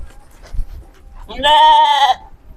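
A sheep bleats once loudly and close during herding in an open farm pen, a sustained wavering call after quieter rustling and shuffling sounds.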